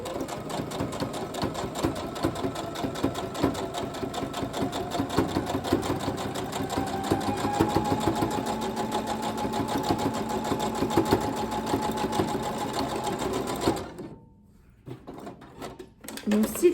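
A sewing machine stitches steadily and loudly while a child's Halloween costume is sewn, the needle's rapid rhythmic chatter running for about fourteen seconds before stopping, followed by brief handling clicks.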